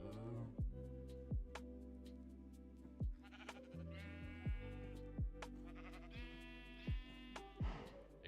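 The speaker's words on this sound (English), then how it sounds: "the sheep action in the bottom left corner." Sheep bleating in the modded Minecraft pack GregTech New Horizons, several wavering bleats layered over a steady low game hum and periodic thumps, with no speech.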